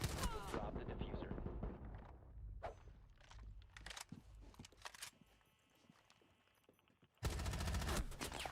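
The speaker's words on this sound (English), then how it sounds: "I don't like that gun. I could not hit a single shot." Gunfire in the video game Delta Force comes in dense bursts, with rapid automatic shots at the start and a loud sustained volley near the end, mixed with game effects and a voice talking.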